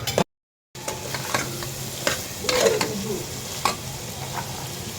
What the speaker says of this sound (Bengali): একটু লাড়া দিয়ে দিলাম, আর একটু কষুক